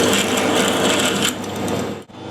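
A brand-new, sharp drill bores into metal on a machine, giving a loud, steady grinding whir with bright high-frequency chatter that eases off partway, then dips briefly before the cut resumes.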